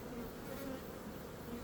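Honey bees at a beehive in a natural beekeeping apiary in late August, giving a steady, continuous buzzing drone that stays close and even throughout with no voices.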